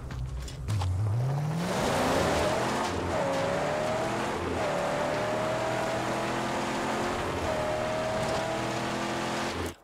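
Car engine in the Mad Max video game, revving up steadily then holding a loud, continuous drone with repeated gear shifts, accompanied by a rising whine, close and alone for the full stretch.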